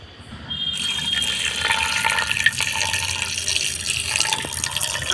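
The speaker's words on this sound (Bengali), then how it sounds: "আমার মাংসটা ধুচ্ছে" Water from a tap runs steadily into a sink as boneless chicken is washed, a close, continuous splashing gush with occasional drips and no talking.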